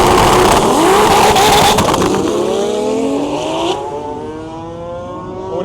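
An R36 turbo Cupra race car accelerates hard, its engine note sweeping upward through several gear changes. The car is loud and close at first, then fades slightly as it pulls away.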